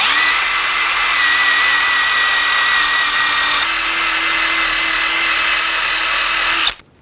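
A power tool with a wire brush or light abrasive whines steadily at high speed while cleaning the wheel hub area of a Ford Expedition, close and loud for about seven seconds before it abruptly stops.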